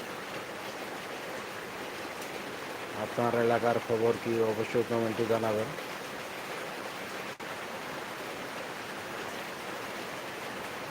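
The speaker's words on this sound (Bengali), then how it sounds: "নওগাঁ জেলা নিয়ামতপুর উপজেলায় শুরু হয়েছে গুড়ি গুড়ি থেকে ভারী ধরনের বৃষ্টি" Heavy rain pours on a rooftop in Niyamatpur upazila, Naogaon district, making a steady broadband hiss throughout while someone talks briefly midway.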